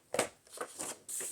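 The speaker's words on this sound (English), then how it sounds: "So let's cut there, right in between the two rows of polka dots." Scissors cut a strip of polka-dot patterned paper for a handmade card. About four short, crisp snipping and rustling bursts sound close by, with brief quiet gaps between them.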